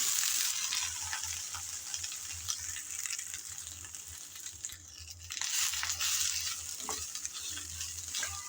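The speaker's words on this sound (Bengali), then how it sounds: "এখন এই শুকনো কড়ার মধ্যে অর্থাৎ প্যানের মধ্যে দিয়ে দেব কেটে রাখা ঢেঁড়স" Chopped okra tossed into a dry pan after onions sizzles with a steady hiss, broken by stirring scrapes and a brief dip before the frying noise swells again.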